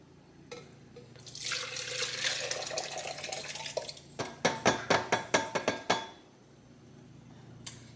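Soaked peppers and their soaking water splash and pour noisily into a container, followed by a run of sharp knocking taps, then quiet.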